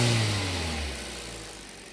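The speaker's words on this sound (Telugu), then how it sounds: "ఒకసారి స్టార్ట్ చేసి వెహికల్ ఇంజిన్ నాయిస్ చూద్దామండి" A 2011 Hyundai i10 engine runs close by, a mid-pitched rev that eases down and settles into a steady hum over a couple of seconds.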